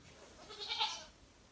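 A goat gives a single short, faint bleat at feeding time on a farm, heard alone against quiet background.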